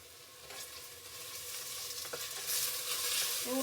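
Cinnamon, cloves and onion frying in oil in a pan for lentil sambar, giving a steady close sizzle that grows louder with occasional stirring scrapes.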